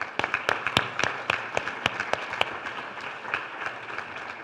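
An audience claps at a Parkinson's conference in Andalusia, a steady round of applause of many hands with a few louder individual claps standing out, no voices over it.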